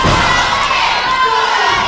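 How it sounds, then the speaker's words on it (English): A wrestling crowd at the Orville Convention Center roars and cheers loudly and steadily for ProPain, a dense wall of voices with shouting up close. "A crowd firmly behind ProPain."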